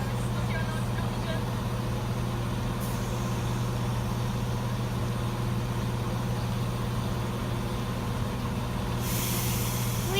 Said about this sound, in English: departing now is 17109, cross country service to Nottingham